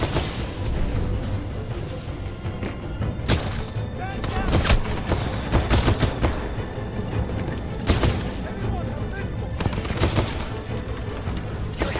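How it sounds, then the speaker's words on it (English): Smart pistol fire in Titanfall 2 comes as bursts of rapid gunshots, with several loud cracks and thumps spread over a dense, continuous din of combat and a voice talking over it. "The fucking smart pistol."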